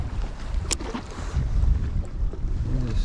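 Strong wind gusting on a riverbank while bank fishing for winter catfish, a loud continuous rumbling buffet against the microphone that swells midway, with a brief sharp click early on and no talking.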